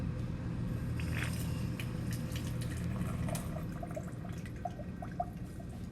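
Water poured from a container into a measuring cylinder, with a steady liquid rush and trickle filling the first few seconds, then small drips and splashes as it spills over, close and fairly quiet.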